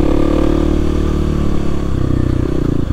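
A Kawasaki KLX300 dual-sport motorcycle on a forest trail, its mid-pitched single-cylinder engine chugging close and loud, with revs stepping up and down as the rider works over rough, rutted ground.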